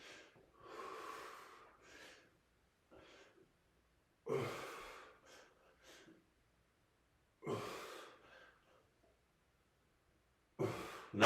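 Heavy breathing during dumbbell lunges, with sharp inhales, gasps and forceful exhales repeating at irregular intervals between quiet pauses, close and fairly faint.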